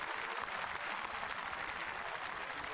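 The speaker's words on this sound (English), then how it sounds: "Giulia Bongiorno getting good applause." A crowd at a World Games women's 500 m inline speed skating sprint final applauds steadily as an athlete is introduced, giving a dense, even clatter of clapping.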